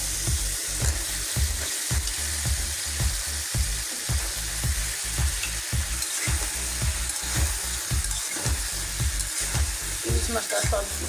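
Hilsa fish fries with tomato, turmeric, chili powder and salt, a loud constant sizzle punctuated by regular rhythmic scraping strokes of stirring throughout.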